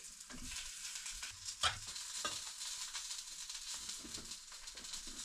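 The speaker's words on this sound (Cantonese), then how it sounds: "個 black pudding 擺咗落個煎 pan 嗰度" Black pudding from a Scottish breakfast pack fries in a smoking pan in Edinburgh. A soft, steady sizzle holds throughout, with light crackles and a brief louder spit, all fairly quiet.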